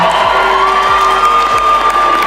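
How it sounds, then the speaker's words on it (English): A large audience at the Tom Brady roast boos Kim Kardashian, a loud, sustained wall of crowd noise that fills the room without letting up. "Kim Kardashian struggled to say a word as the crowd relentlessly booed her"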